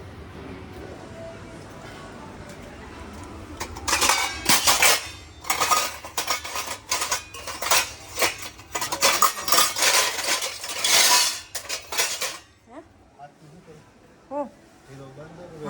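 Dishes and metal utensils handled together: a long run of clanks, clinks and rattles at close range in uneven bursts, with people talking before, during and after.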